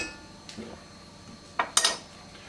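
A rice scooper scrapes and knocks against a metal pot or bowl of pemmican mixture, a few soft taps followed by two sharp clattering scrapes close by, with no talk.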